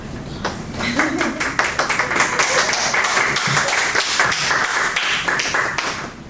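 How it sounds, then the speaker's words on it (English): An audience at an academic talk on Pohnpeian food systems and land management claps for the presenters, a sustained round of applause near and loud, with some speech underneath. "Please give them a round of applause."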